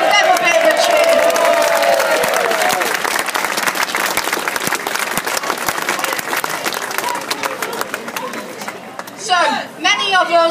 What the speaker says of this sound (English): so give them a bit of a cheer